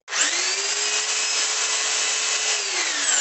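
A rotary hammer running in plain drill mode spins up abruptly and holds a loud, steady motor whine with a constant pitch, then eases slightly near the end. No one speaks.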